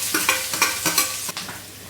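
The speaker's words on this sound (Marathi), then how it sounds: "हे बघा, आता हे बटाटे टाकून घेऊया।" Potatoes tipped into hot ghee with green chillies in a pan for a Marathi fasting potato bhaji, giving short sizzling bursts and scraping stirs in an uneven rhythm, close and fairly loud.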